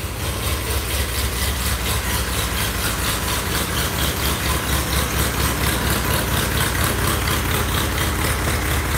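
Car engine idling steadily after a cold start in a shed on a cool sunny morning, a constant low rumble with an even pulse, close and loud, alone without any talk.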